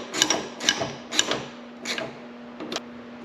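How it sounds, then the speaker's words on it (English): Fuel pump mounting bolts being snugged down in a crisscross pattern on a Toyota Camry: a series of short, close ratchet clicks and bursts spaced about half a second apart, with a steady background hum. "And we are going to be tightening these in a crisscross pattern."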